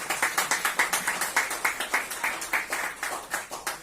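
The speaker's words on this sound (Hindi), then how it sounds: "और इससे भी ज्यादा जोरदार तालियां हमारे वरिष्ठ प्रबंधकों के लिए," Audience members at a Hindi quiz competition clap in a steady, rhythmic unison beat, around five claps per second, fairly close and clear, with no talking.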